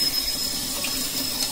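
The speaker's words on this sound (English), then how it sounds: "All right, so I'm just gonna run it over cold water." Cold tap water running at a sink over a telescope mirror, from a Celestron StarSense Explorer 130 reflector: a steady, close hiss of water that continues unbroken throughout.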